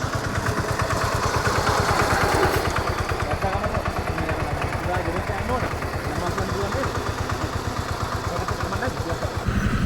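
A Landmaster tractor engine chugs nearby in rural Sri Lanka in a steady, rapid low thump throughout, with voices talking over it.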